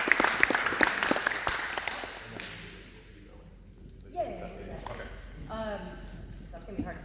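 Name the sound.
audience applause at an awards ceremony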